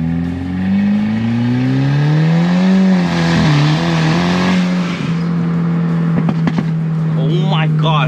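A Kia car engine with a straight exhaust revs loudly and harshly up and down, close by, with a raw unmuffled roar and some rattling near the end.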